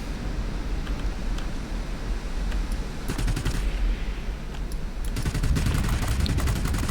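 Aircraft machine guns rattle in World of Warplanes, with dense, rapid bursts of gunfire set against a steady engine roar. Bursts come around the three-second mark and again near five seconds, turning into a sustained fusillade toward the end.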